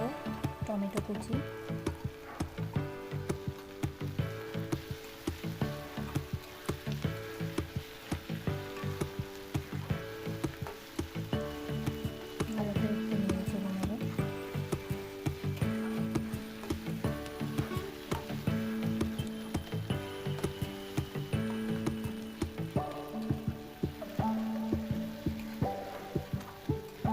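Onion, ginger-garlic and tomato fry in a pan for tarka, a steady crackling sizzle heard throughout, with stirring, while music plays over it and a person talks.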